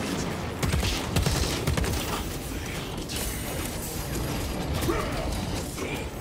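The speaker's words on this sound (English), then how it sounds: "I'm getting shot from all directions" Gunfire striking the player in Warhammer 40k Space Marine 2, a dense rattling barrage of rapid mechanical shots and clanks from several directions, loud and continuous throughout.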